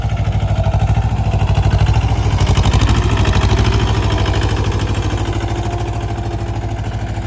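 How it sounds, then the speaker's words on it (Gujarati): A tractor engine runs in a fennel field, chugging loudly at a steady idle with quick, even pulses and a metallic clatter. It is close by and there is no talk. "આ બાજુ તમે જોઈ શકો છો ટ્રેક્ટર લાવ્યું છે શેડવા."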